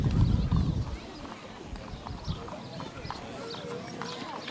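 Hooves of horses pulling a carriage in a parade clip-clop in a steady rhythm on pavement, close by, while bystanders talk over the sound.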